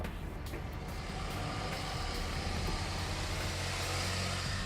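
A tow vehicle pulling a trailer drives forward on a dry, level paved road, its engine and tyre rumble a steady, low, fairly quiet drone.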